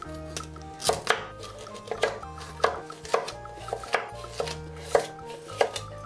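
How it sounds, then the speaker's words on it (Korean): Rhythmic knife chops through carrots on a cutting board, about a dozen close, crisp strikes at a steady pace, with no talking, while preparing galbi-jjim braised short ribs. "당근도 먹기 좋은 크기로 잘라주세요."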